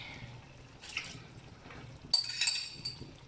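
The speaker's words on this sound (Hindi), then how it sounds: "थोड़ा सा इसी में पानी डालूंगी मैं" Water poured into chicken keema with yogurt in a pan, a faint trickle and splash followed by a brighter clinking pour near the end, fairly quiet and without talking.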